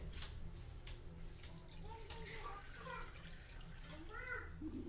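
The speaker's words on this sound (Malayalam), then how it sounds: "വെള്ളം ഒഴിച്ച് കൊടുത്തിട്ടുണ്ട്" Water trickles and splashes steadily into a mixer jar holding raw rice, with faint voices in the background.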